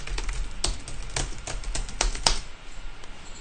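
Keys clatter on a computer keyboard in irregular bursts of quick taps and short pauses, close and fairly quiet, with no talking over it.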